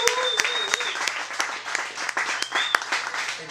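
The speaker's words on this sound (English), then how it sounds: "Let's give him a big round of applause." A live audience breaks into steady applause, dense overlapping claps holding at a fairly loud level throughout.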